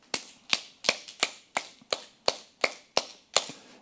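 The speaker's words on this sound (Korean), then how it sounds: "박수 한번 쳐보겠습니다. 박수 10번 시작." Ten sharp, evenly spaced hand claps in a steady rhythm from a church congregation at a Bible lecture, each clap crisp and close, with no talking in between.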